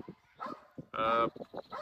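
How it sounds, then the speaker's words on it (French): A Malinois dog barks during a mondioring trial, one short sharp bark standing out amid scattered voices and yips at a distance outdoors. "Donc, le chien, il aboie."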